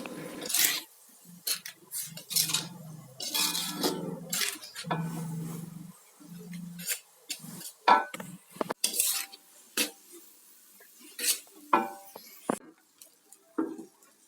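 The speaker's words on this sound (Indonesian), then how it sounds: "lalu aduk-aduk dan biarkan sampai matang." A utensil stirs mung bean vermicelli in a cooking pot, making irregular scraping and clinking strokes against the metal, close and moderately loud, with brief pauses between bursts and no speech.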